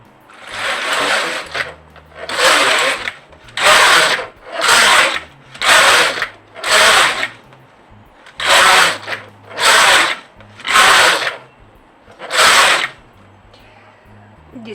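A domestic knitting machine knits ten rows of a sock and spring-top pattern, its carriage passing in about ten loud, close whirring sweeps with short gaps between, each stroke clattering evenly, and no voices over it.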